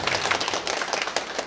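Congregation applauding at a Catholic Mass in a parish church, a dense, steady patter of many hands clapping close by, continuous and even throughout.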